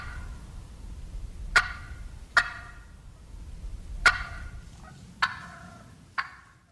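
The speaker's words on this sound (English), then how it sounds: "here's a kind of a nice little vocalization so you can hear what that cluck sounds like" Wild turkey clucks from a recording, five sharp separate calls spaced about a second apart, clear and fairly close, with a faint purr trailing one of them over a quiet background.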